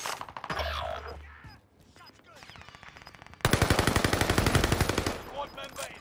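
Rapid automatic gunfire from Call of Duty: Modern Warfare bursts out loud and close, with sharp repeated shots in quick rhythm and scattered game effects around them.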